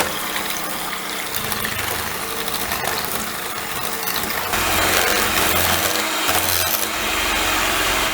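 Cake batter for a yogurt cake being whisked by hand with sugar and vanilla sugar; a continuous close scraping and swishing with faint clinks, steady throughout and growing a little louder partway, with no talk.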